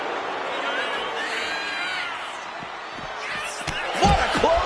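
An arena crowd roars and cheers in a WWE wrestling video game, a sustained broad swell with thuddy impacts of ring action near the end, under commentary.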